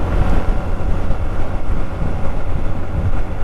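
Strong wind roars steadily past a rider on a 2023 Honda motorcycle crossing open fields, a loud, continuous low buffeting that fills the whole stretch with no voices.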